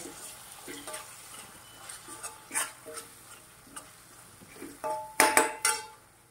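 Chili powder, black masala and turmeric are stirred together in a metal pot, giving scattered scraping and clinking taps of a spoon, sparse at first and then a cluster of sharper, louder metallic knocks near the end.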